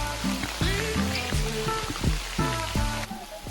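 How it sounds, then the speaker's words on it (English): Steady rain falls through Mawphlang Sacred Forest in Meghalaya, a dense continuous hiss with patter on leaves, while bird-like or voice-like calls come and go over it. "where it actually rained for the first time in our trip"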